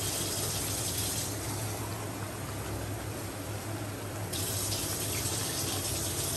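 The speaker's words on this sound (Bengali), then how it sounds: "এবার জল ঢেলে দিলাম।" Water pours steadily into a pot of cooking mutton curry with new potatoes, a continuous close gushing wash that holds even throughout with no speech.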